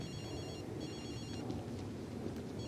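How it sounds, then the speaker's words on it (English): A telephone rings in a TV show in repeated trilling bursts, fairly faint beneath a steady rumble of background noise like rain or thunder. "Another phone call!"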